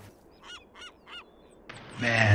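Goose-like birds in the ArmA military video game give three clear, evenly spaced honks over a quiet background, followed by a sudden loud burst of noise near the end.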